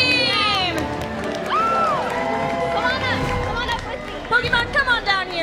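A crowd at a Twitchcon 2017 Lineage 2 Revolution tournament cheers after a 30-versus-30 Fortress Siege match, with loud sustained shouting and whoops, high excited voices rising over steady babble, and several sharp bursts near the end.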